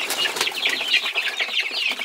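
Silkie hens cluck excitedly while pecking at an egg, with quick flurries of wing flapping. Close, busy and brief.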